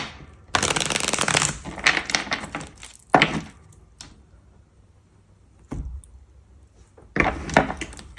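Tarot card shuffling in several bursts: a long riffle, a short one, then another after a quiet pause, crisp and close with no talking.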